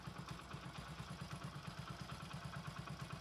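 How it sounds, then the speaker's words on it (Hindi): A motorcycle engine idles steadily right after starting, a close, even low throb with light mechanical clatter running throughout, no voices. "अब बाइक को स्टार्ट करना है।"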